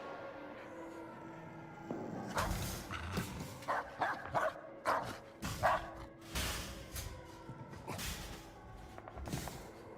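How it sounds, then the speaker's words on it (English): Dogs in the video game Indiana Jones and the Great Circle bark and yip in irregular bursts, with some whimpering, fairly loud against a quiet game backdrop. "Oh, the dogs are coming."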